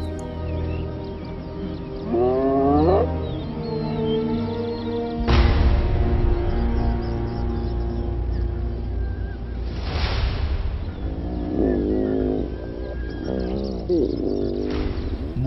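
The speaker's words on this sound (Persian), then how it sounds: "یک گروه از کفتارها که متوجه صدا شده‌اند به سرعت گرد هم می آیند." Several hyenas gathering call out with rising whoops and cackling cries, some near and some farther off, over a low rumbling background.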